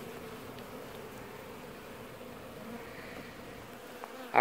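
Honeybees buzzing steadily throughout a hive removal in Lakeland, a soft continuous insect drone with a brief louder knock at the very end.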